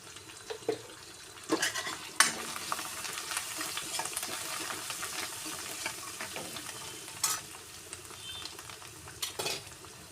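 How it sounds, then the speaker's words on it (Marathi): Coriander and turmeric frying in oil in a pan, with a quiet steady sizzle under occasional sharp spoon clinks and stirring scrapes, and no voice. "ती पण तेलामध्ये खरपूस भाजून घ्या"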